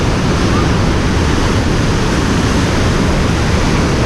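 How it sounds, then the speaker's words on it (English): Water rushes with heavy pressure out of the vents of an Erie Canal lock, a loud constant roar like surf heard close by. "So they're pushing all the water down out these vents, and it's going to be low enough for the boat on the other side to come through."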